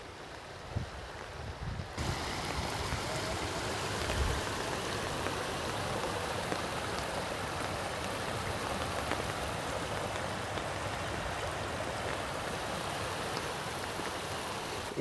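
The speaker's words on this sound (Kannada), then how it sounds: "ನೀರು ನಮ್ಮ ತೋಟಗಳ ಕಡೆ ಬರ್ತಿದೆ" Floodwater from heavy rain in Kolar flows toward farm fields: a loud, continuous broadband rush with no voices, steady for the whole stretch and rising sharply after a quieter opening.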